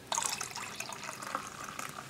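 Coors Light beer pours into another drink, a bright continuous splashing and fizzing of liquid that lasts about two seconds at close range.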